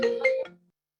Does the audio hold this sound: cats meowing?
no